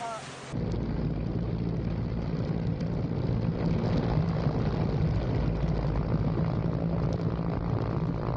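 Helicopter in the Red Sea as Houthi rebels descend onto a hijacked cargo ship, a loud continuous rotor and engine drone close by, steady throughout after a brief cut-in at the start.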